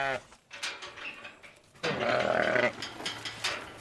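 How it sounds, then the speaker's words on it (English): Sheep and cows at feeding time on a farm on the Devon–Somerset border, with nearby bleats and a loud burst of overlapping animal calls that swells midway and then fades. "It's feeding time for the sheep and the cows here at Woodhane Farm"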